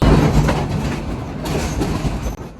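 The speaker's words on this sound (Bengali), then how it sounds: "এই তুরাগ নদীর উপর দিয়েই আমাদের ট্রেনটি ছুটে চলেছে ঢাকার উদ্দেশ্যে" A passenger train rolls across the Turag river bridge near Dhaka, with a loud, steady broadband rumble of wheels and carriages running continuously throughout.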